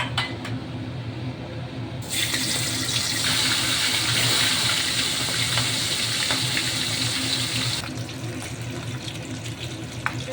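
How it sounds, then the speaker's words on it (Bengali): Large bhetki fish bones drop into hot oil, and a broad, loud sizzling hiss swells and holds for several seconds before settling back to a quieter background. "আমার মাছের কাঁটা লাল লাল করে ভাজা হয়ে গেছে"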